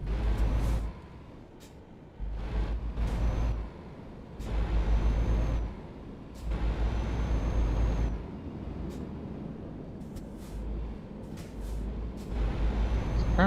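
A truck driving in a Euro Truck driving game, its engine droning in uneven surges with repeated sharp air-brake hisses and bursts, loud and near, without voices.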